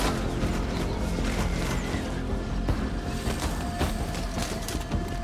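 Battle sounds from the video game Total War: Pharaoh as Achaean archers shoot, a dense, loud wash of clattering impacts and sharp transient hits over continuous combat noise, with no talk.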